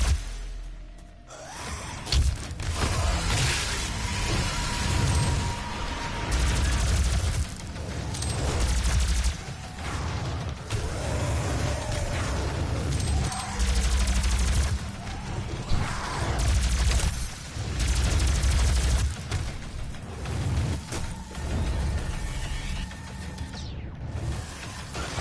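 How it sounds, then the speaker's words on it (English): Rapid rifle fire in DOOM, dense bursts of shots with booming impacts and mechanical clatter, loud and continuous across the whole stretch with brief lulls. "I'm just going to start with the rifles until"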